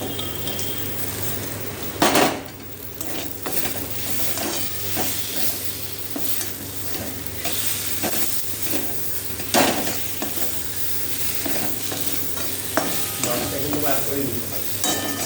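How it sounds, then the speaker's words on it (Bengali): Potatoes frying in oily spice paste in a pan, a steady sizzle under the scrape and clink of a spoon stirring against the metal, close by, with a couple of louder knocks. "এবার এর মধ্যে আমি আলুটা দিয়ে একটু কষিয়ে নেবো।"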